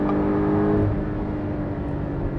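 Porsche 718 GTS, Cayman or Boxster convertible, accelerating hard from inside the cabin, a steady loud engine roar with a deep drone that holds throughout without a break.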